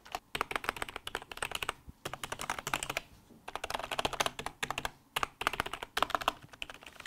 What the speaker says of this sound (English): Let's see how it sounds, right? How a keyboard sounds is also very important.